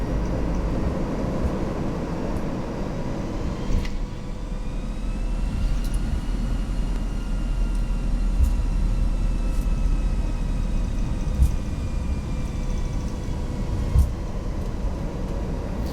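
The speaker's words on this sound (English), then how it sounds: "Let's give it some engines." Airbus A319 engines in X-Plane 11 spooling up, a steady jet roar with a tone rising slowly over sixteen seconds, a few faint clicks and thumps scattered through, no voices.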